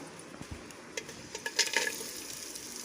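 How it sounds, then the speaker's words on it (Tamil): Cashews and raisins fry in hot ghee, giving a soft steady sizzle with scattered light stirring clicks that build toward the middle, close and fairly quiet with no talk. "இப்போ நெய் சூடானதுக்கப்புறம் நம்ம இதிலே முந்திரி, திராட்சை போட்டுக்கலாம்."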